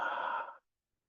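A single slow exhale through the mouth during a guided calm-breathing meditation, soft and close, lasting about half a second before silence.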